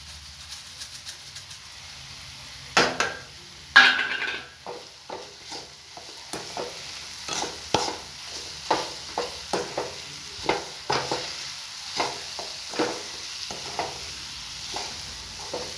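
Banana mixture with sugar stirred in a pan for banana balls, soft quiet background with a series of gentle, evenly spaced scraping strokes of a spoon against the pan.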